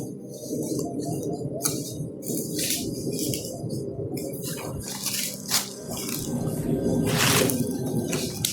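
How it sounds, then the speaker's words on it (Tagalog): Water drips and splashes steadily with wet, irregular patters against a constant watery background, with no talking. "Yung tulo."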